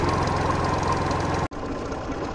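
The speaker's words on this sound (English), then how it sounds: "Now the tractor is already running" A Massey Ferguson tractor engine runs steadily in an oats field, with a loud, dense, rumbling idle that drops out for an instant partway through, then resumes slightly lower and smoother.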